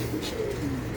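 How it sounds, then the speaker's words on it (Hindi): Pigeons cooing on a rooftop: a short, soft, low burbling coo close by, heard alone without any voices. "ये मशहूर ज़माना मेरा एक कबूतर रहा इधर माशाल्लाह, लंगड़ा उसका नाम था"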